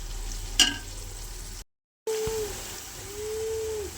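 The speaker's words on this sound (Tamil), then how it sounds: "இன்னும் ப்ரௌன் ஆகட்டும். இன்னும் வதங்கணும்." Onions sautéing in a pan for chicken biryani, a steady soft frying sizzle with a brief stir clatter, a short break, then continuing sizzle close by with no talk.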